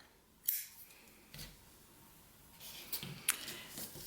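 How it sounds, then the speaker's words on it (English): Scissors snipping a knitting yarn tail, a few faint, brief cuts and clicks spread out in near silence, close and quiet. "So I'm gonna cut it right there."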